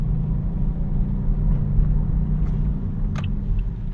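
Low droning rumble from a Toyota Vios driven at low speed, around 15 to 20 kph, with a fault in the running gear; the hum is loud, steady and close inside the cabin, with a faint click near the end.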